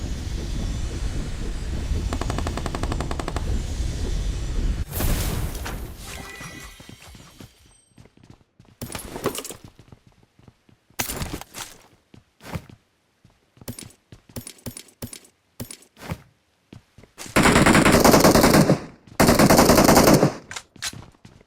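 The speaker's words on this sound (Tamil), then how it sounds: "இதுல P90 இருக்கும், நீங்க சுட்டு போடுங்க" P90 submachine gun fire in a video game, with dense automatic bursts and scattered single shots, loud and close, ending in two long sustained volleys.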